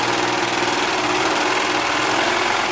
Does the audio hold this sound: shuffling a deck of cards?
no